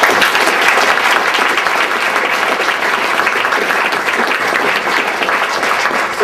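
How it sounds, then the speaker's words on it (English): An audience at a university arts faculty internship event claps warmly for student speakers and interns, producing dense, sustained applause that stays loud and even from start to finish. "Please give them all a warm round of applause"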